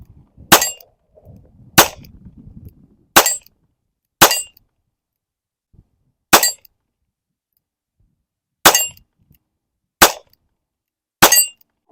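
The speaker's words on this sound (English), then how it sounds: "So I've got it loaded up here. Let's take some shots." Eight sharp gunshots from an H&R 999 Sportsman .22LR top-break revolver, fired one at a time at irregular intervals of about one to two seconds, each a loud, crisp crack with a short tail and silence between, plus faint handling rustle near the start.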